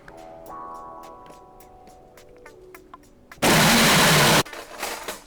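A food processor blending a biscuit crust of Biscoff cookies with melted butter: a rattle and a winding-down whir, then a loud one-second burst of pulsing, followed by a quieter rattle.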